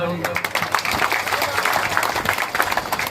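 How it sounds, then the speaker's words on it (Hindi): An audience at a religious pilgrimage gathering at Lohargal Dham breaks into clapping, a dense, lively patter of hands that carries on steadily, with some voices mixed underneath. "अब बजाओ ताली।"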